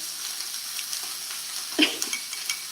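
Pork tenderloin is being mixed with seasoning, a soft, moist sizzling hiss with a few faint scraping clicks of utensils against the pan or bowl.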